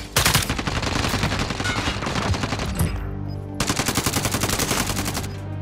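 Gunfire in a first-person video game shooter with an AUG-style rifle: rapid, dense bursts of automatic fire that keep rattling steadily, with a short pause midway before another volley.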